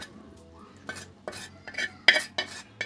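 Masala of onions, green chilies, turmeric and red chili powder cooked in oil in a pan, with a series of separate scraping and clinking stirs of a utensil against the pan over a low background.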